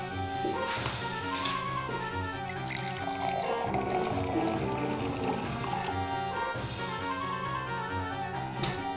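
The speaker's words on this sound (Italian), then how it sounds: "aspetta un attimo, vado a bere un po' di acqua." Water runs and drips as someone gets a drink in an animated cartoon, steady and close, with a splashy pouring burst in the middle over a musical background.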